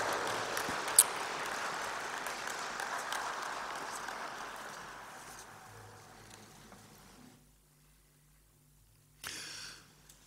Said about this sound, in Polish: Serdeczne brawa i gratulacje.